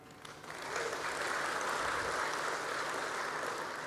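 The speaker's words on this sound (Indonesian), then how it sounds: "Ini yang harus kita tepuk tangani." An event audience breaks into applause, rising quickly after a quiet start and then holding as a dense, steady clatter of many hands, moderately distant and uninterrupted by talk.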